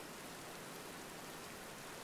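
Steady rain in the survival game Sapiens Windstorm, a faint, even hiss of falling water that continues unbroken throughout, with no voices.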